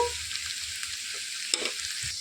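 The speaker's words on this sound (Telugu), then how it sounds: "ఇందులోనికి నాలుగు పచ్చిమిరపకాయలు తరిగి పెట్టుకుని వేసేసుకోవాలి ఉల్లిపాయలు బ్రౌన్ రంగు వచ్చే వరకు కూడా వేయించుకోవాలండి" Sliced onions and green chillies frying in a pan for a tamarind-leaf onion curry, a continuous close hiss of sizzling oil with a few faint scrapes of a spoon, steady and fairly loud throughout.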